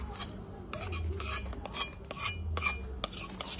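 Maggi noodles are served onto a plate, with metal cutlery clinking and scraping in several quick bursts against dishes and a pan, close and distinct.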